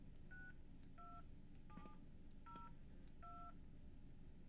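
Five short telephone keypad DTMF beeps are entered one after another at an even pace on a phone call while a zip code is keyed in, heard over a low steady line hiss.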